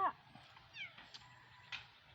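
A cat meowing outdoors during mulberry picking, a few short mewing calls spaced across a couple of seconds, fairly close but quiet, over a low background hum.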